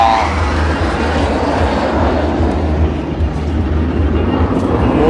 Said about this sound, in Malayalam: മൂന്ന് സൂര്യകിരൺ വിമാനങ്ങൾ പറന്നു വന്ന് നമ്മുടെ മുന്നിൽ കാണികൾ ഇരിക്കുന്ന ആ ഒരു പവലിയന് മുന്നിലെത്തിയപ്പോൾ ഒരുമിച്ച് സിൻക്രണസ് റോൾസ് ആണ് നമ്മൾ കണ്ടത്